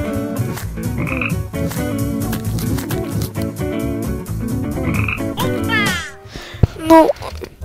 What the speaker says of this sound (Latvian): Vardītes.